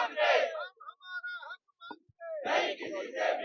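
Protesters with placards chant slogans in a crowd at Shaheed Smarak memorial in Jaipur, loud bursts of massed voices broken by a short pause before the chanting swells again.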